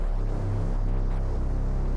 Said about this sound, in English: that is the sound of the 3 o'clock bells